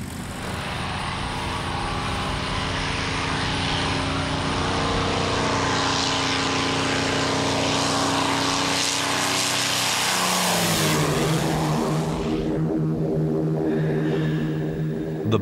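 Propeller engines of P-51 Mustang fighter aircraft at a wartime airfield roar steadily and loudly for the whole stretch, the engine note shifting and dropping in pitch near the end as the aircraft run up or move off.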